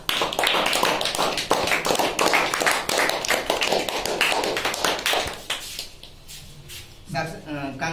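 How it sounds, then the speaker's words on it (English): Group of people clapping for chess teams at the close of a match, a dense, steady patter of hand claps that thins out toward the end, with voices mixed in. "Give them a claps"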